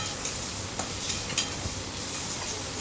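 Soft scraping and light clinks of a spatula stirring boiled potatoes, ghatkol stalks and shrimp in a frying pan, with faint sizzling underneath and no talking.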